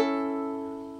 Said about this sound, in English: a rolled strum, which sounds like this,